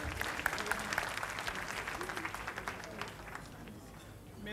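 Dense, close applause fills an awards-ceremony hall at the Soirée Cauris 2012 as the President of Senegal is honoured as political personality of the year. The clapping is even and sustained, then thins and fades toward the end.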